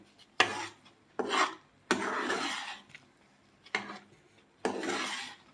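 A spoon scrapes and drags through thick Karachi halwa mixture in a pan in five separate rasping strokes, close and fairly quiet.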